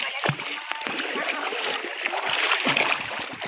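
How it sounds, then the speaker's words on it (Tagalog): Water splashes and sloshes continuously as people wade along a river, with scattered footsteps in the shallows and voices talking throughout. "Wow, andito na naman tayo sa ilog."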